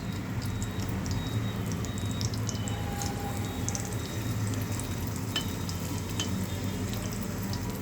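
Rava-coated suran (yam) slices shallow-frying in a little oil bubble with a constant dense crackle and small scattered pops at an even level, without speech.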